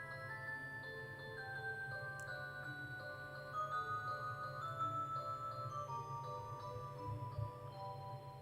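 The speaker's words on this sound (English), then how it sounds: "now you get to hear the clock that's in the sitting room" A sitting room clock ticks in a steady, even rhythm, faint and close against a quiet room hum.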